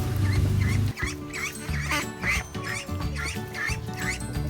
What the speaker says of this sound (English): These are the Indian runner ducks that we hatched from some eggs.